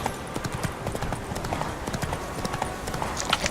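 Steady galloping horse hooves in The Witcher 3, a fast, continuous clip-clop rhythm close up beneath a busy game ambience.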